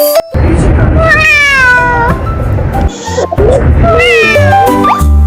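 Cat meowing several times in a row, loud and close, with rising and falling wavering cries separated by short pauses.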